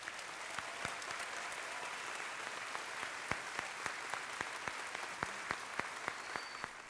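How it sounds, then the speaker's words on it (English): A roomful of people at a graduation ceremony gives the faculty a round of applause: steady, moderately distant clapping throughout, with a few sharper individual claps standing out. "let's give them a hearty round of applause to our faculty"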